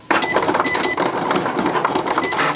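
A Cricut Explore 4 cutting machine works through a project with a steady mechanical whir broken by rapid clicking and whirring bursts, close and fairly loud with no voices.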